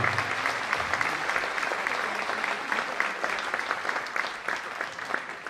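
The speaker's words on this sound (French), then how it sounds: "On peut l'applaudir plus fort." Sustained audience applause at a lace queen pageant evening, a dense steady clatter of many hands clapping throughout, loud and continuous with no pause.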